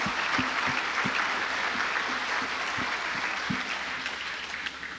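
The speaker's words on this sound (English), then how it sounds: "just give yourselves a great round of applause" Audience at a toast event giving a steady round of applause, dense clapping from many hands filling the room at a close, even level with no talk over it.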